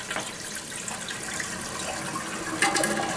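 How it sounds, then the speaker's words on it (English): Toilet flushing after a fill valve replacement, a steady rush of running water that swells louder near the end, close by with no talk. "See how it sounds on a flush?"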